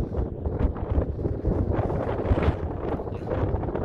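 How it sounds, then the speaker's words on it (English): Wind blowing outdoors on a breezy day, a steady roaring buffet against the microphone with gusty swells throughout and no voices. "It's breezy. It is definitely breezy."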